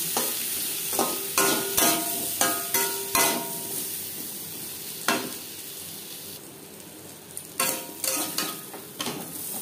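Potatoes frying in a pan with salt and turmeric, a steady sizzle broken by repeated clanks and scrapes of a utensil stirring against the pan, close and fairly loud with brief pauses between strokes.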